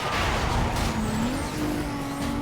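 Car racing in Need for Speed Most Wanted, a loud continuous engine roar with rising revs and a brief tire squeal, close and steady throughout.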